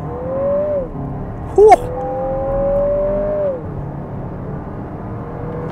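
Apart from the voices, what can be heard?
2024 Lexus NX 350 F-Sport accelerating 0-60 from brake torque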